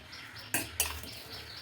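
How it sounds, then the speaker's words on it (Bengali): A ladle stirring payesh in a pot gives two quick, close metallic clinks against the pot, over a soft, steady background. "চলো এটা আমরা নেড়ে নিই"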